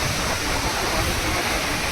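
Mountain river flowing at Sonamarg, Kashmir, a loud, continuous rushing roar of fast water, close and steady throughout.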